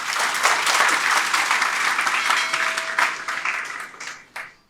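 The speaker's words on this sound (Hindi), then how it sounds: "तो मैं एक बार जोरदार चाहूंगा कि आप अपने लिए भी ताली जोर से बजाएं।" An audience at a talk program claps loudly together in dense, sustained applause that tapers off toward the end, with a final few scattered claps.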